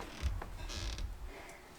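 A house front door creaks open, a short, fairly quiet groan with a few faint mechanical clicks and low thumps, heard alone without talk.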